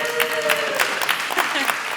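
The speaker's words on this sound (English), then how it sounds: "round of applause to yourselves for the stamina." Conference attendees at a panel session give scattered, moderately loud applause, with individual claps clearly audible, while a voice speaks briefly over the start.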